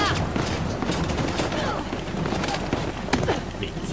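Rapid bursts of gunfire crackle in a firefight in the video game Uncharted: The Lost Legacy, with several dense volleys over a few seconds while a player talks over the action.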